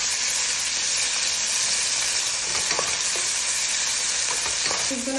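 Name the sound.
stir-frying ginger and garlic mix in oil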